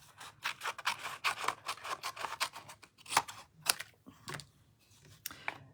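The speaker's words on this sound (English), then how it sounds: "I need to trim some more off the bottom here." Scissors trimming paper cardstock for a floral stamped card, a rapid series of crisp close snips in bursts, then a few slower separate cuts with short pauses between them.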